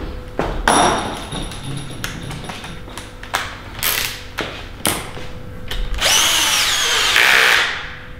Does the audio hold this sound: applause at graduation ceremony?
no